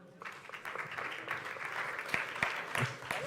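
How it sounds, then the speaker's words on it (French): Audience applause in a hall at the West Web Festival 2017 start-up battle: moderate, steady clapping from a crowd with a few sharper claps standing out, under faint background voices. "On peut applaudir Sébastien."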